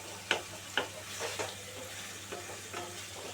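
Egg curry gravy in a pan after a splash of water, sizzling steadily while a spoon scrapes and stirs in a few distinct strokes, close up with no talking.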